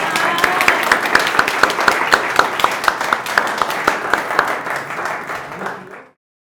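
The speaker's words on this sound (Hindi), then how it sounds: "तो हम नितेश पालीवाल जी का स्वागत करते हैं तालियों के साथ" Audience applause welcoming a poet at a Hindi open mic poetry event: steady, dense clapping from a seated crowd, fairly loud and close, sustained for about six seconds before cutting off abruptly.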